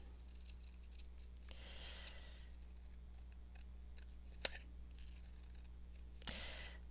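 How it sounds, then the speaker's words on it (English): Scissors snip a circle out of paper for a junk journal booklet, giving a few faint, close cutting strokes with pauses and a sharp tap in a quiet room. "We will cut this one out in a circle."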